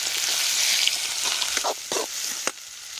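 Onion dropped into hot oil with mustard seeds sizzles in a steady, close frying hiss, with a few brief crackling bursts and spoon stirs toward the end, no voices.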